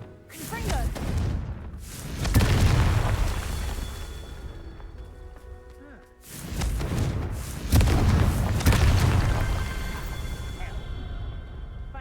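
The Confringo spell explodes in the Hogwarts Legacy video game. Two heavy booming blasts land several seconds apart, each followed by a long rumbling decay.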